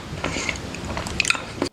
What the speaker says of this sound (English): it could also just be the chewing noises